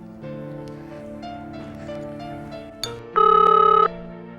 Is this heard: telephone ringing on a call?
yes